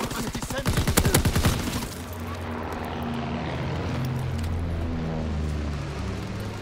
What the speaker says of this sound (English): Aircraft in the air